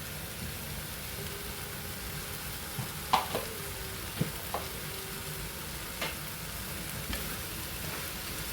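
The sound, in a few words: stirring bottle gourd curry with chili powder in pan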